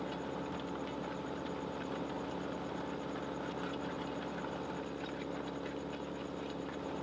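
A tractor engine in Farming Simulator 15 labours hard under a heavy implement, a steady, dense mechanical drone holding constant and loud throughout with no talk over it.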